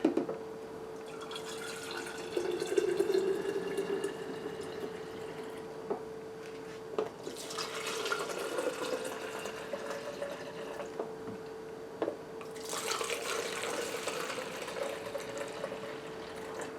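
Water running from a tap into several containers of different sizes, a steady close trickle and splash with a faint ringing tone, shifting in pitch as each vessel fills.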